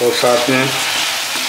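Chicken pieces frying in a pan for a restaurant-style chicken pulao, giving a steady close sizzle throughout while a voice talks briefly over the start.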